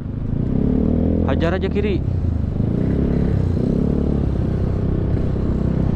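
A Honda Beat scooter with an aftermarket TZM exhaust revs in congested traffic, a short throttle burst rising over the steady engine and street rumble while riders talk.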